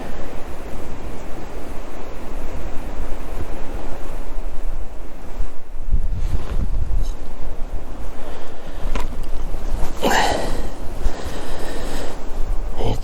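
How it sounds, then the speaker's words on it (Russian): Strong wind gusting across a frozen lake during winter ice fishing, a steady roaring rush with buffeting microphone noise and louder gusts, heard alone without talk. "Ветрище сегодня."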